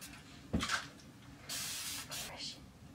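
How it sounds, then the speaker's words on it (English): Hairspray hissing from an aerosol can while a child's hair is being styled at home, heard as a sharp burst followed by two longer sprays, close by with a soft voice in between. "Where's your hairspray?"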